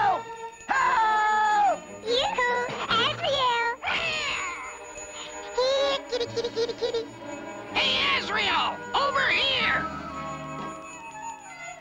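A cartoon cat meows and yowls in a series of loud, drawn-out, pitch-bending cries, some rising and falling, with short gaps between them.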